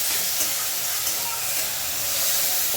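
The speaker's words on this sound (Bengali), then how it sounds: "তারপরে কচু শাকগুলি ছেড়ে দিয়েছি, এবার নাড়াচাড়া করে নেব" Taro leaves hiss and sizzle steadily in hot oil with dried chillies and crushed garlic, a continuous close frying sound with light stirring and no speech.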